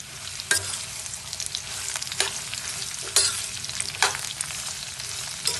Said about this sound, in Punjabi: ਹੁਣ ਆਪਾਂ ਇਹਦੇ ਵਿੱਚ ਪਾ ਦਾਂਗੇ ਆਹ ਆਪਣੇ ਟਿੰਡੋ ਦੇ ਪੀਸ ਜਿਹੜੇ ਆਪਾਂ ਕੱਟਨੇ ਇਹ ਪਾ ਦਾਂਗੇ